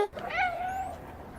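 A person imitates a cat's meow with a single drawn-out, rising then falling mew that is close and clear and lasts about a second, followed by faint room noise.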